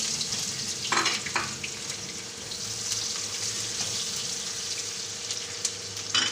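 Onions frying in hot oil in a pan make a loud, steady, close sizzle, broken by a few brief stirring clatters.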